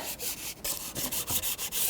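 Rhythmic rasping strokes of hand-sanding a surface on a 2014-2019 Toyota Corolla 1.8L during PCV valve replacement, about a dozen quick back-and-forth rubs, close and steady.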